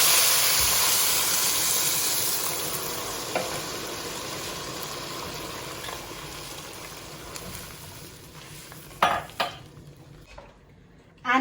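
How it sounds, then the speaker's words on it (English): Boiling water poured into a pot of lemon rice, a loud rushing hiss and sizzle that slowly tapers off, followed by a few clanks of the pot and utensils. "I'm going to add 1 liter of boiling water to this"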